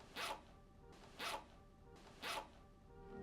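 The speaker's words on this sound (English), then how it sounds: "That's a fake zip noise." A clothing zipper sound effect from the TV series Dark plays three times, each a short bright rasping zip spaced about a second apart, faint and isolated with no voices.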